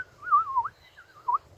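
A toy whistle imitates bird song, giving two bursts of warbling, trilling tones with a short pause between them, clear and close with no talk.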